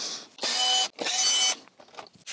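Electric screwdriver undoing screws on the nose section of a BMW R1250GS HP motorcycle, two sustained close whirring bursts of about half a second each, followed by faint clicks and handling noises.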